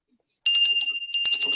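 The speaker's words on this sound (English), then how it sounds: "Give the bell ring for good luck" A small bell rung for good luck at the close of a Phillies post-game show chimes brightly twice after a moment of silence, its metallic ring close and loud with a brief pause between strikes.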